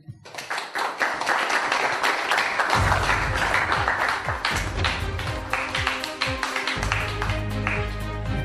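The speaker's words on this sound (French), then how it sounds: "que je vous invite à applaudir." An audience at an evening company presentation event bursts into dense, sustained clapping that stays loud and even throughout, with a low hum underneath.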